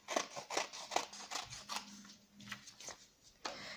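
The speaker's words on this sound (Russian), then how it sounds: "не разворачивая, вырезаем по линии" Scissors snip through folded paper along a drawn line with a quick run of close, crisp cuts. A short pause follows, then a few more snips, all faint and with no talking.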